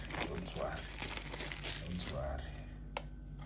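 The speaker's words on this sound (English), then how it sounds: "Let's release him. Let's free him. Let's free him from this container." A plastic toy container crinkles and crackles as it is handled and opened, giving steady close rustling under a person's talk, with one sharp snap near the end.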